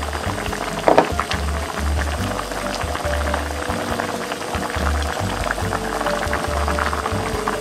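Tuna gochujang stew with garlic, chili flakes and soy sauce bubbling in a pot, a steady dense simmer of popping bubbles with low rumble and one sharper clink near the start.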